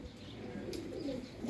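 A desi high-flyer pigeon cooing softly with low, rolling throaty notes, faint and a little distant against quiet background noise.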